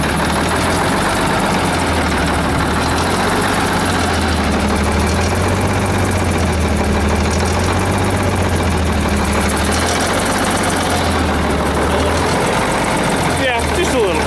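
A Kenworth K100 truck's cold diesel engine runs at a loud, close, steady idle with a slowly wavering low drone, while someone talks over it.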